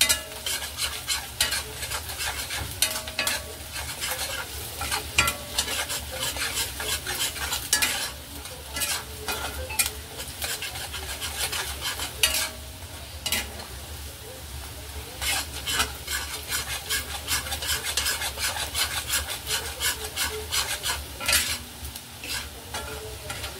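Garlic frying in oil for Schezwan chutney sizzles steadily while a spoon scrapes and clinks against the pan in frequent, irregular strokes, close and fairly loud, with no talking.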